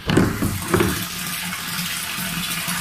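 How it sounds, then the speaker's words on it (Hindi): An electric water pump motor runs to fill water during light rain, giving a steady, fairly loud rushing hiss of flowing water with a brief louder surge near the start. "ये मोटर चलाई है पानी भरने के लिए"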